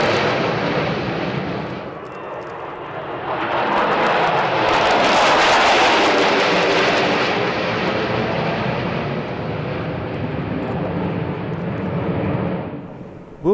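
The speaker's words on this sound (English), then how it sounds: "the Russian Knights flying 5 Su-27s and the Strigi with 4 MiG-29s" Su-27 and MiG-29 fighter jets of the Russian Knights and Strizhi teams fly a display at Zhukovsky, a heavy jet roar that builds to a loud peak and then holds as a broad, rushing rumble.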